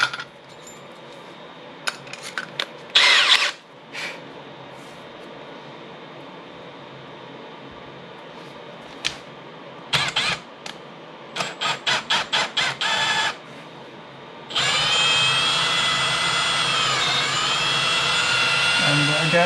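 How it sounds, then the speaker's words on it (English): A power drill fitted with an extra-long bit pre-drills a hole for a bridge placement. It runs loudly and steadily for several seconds near the end, after scattered clicks and knocks from handling. "we're going to pre-drill with this super long bit"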